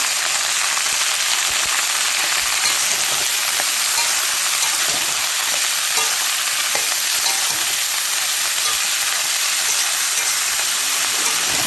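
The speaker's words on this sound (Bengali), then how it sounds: "আমি ভাজা করবো" Food frying in a pan in a home kitchen, a steady dense sizzle with a rain-like crackle that stays loud and even throughout, with no voices.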